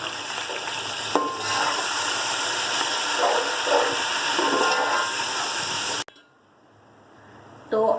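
Garlic-ginger paste hits a pan of fried onions and sizzles loudly in a broad crackling hiss. The sizzle cuts off sharply partway through, leaving a quiet stretch before a brief clatter.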